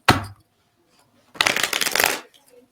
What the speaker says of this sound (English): I did 2 shuffles, well, 3 shuffles.